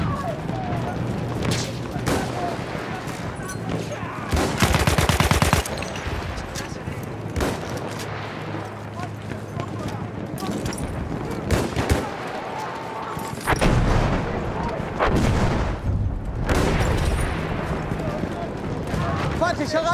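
Battlefield 1 multiplayer combat: two heavy booming blasts several seconds apart stand out over scattered gunfire and battlefield clatter, with voices talking over the action.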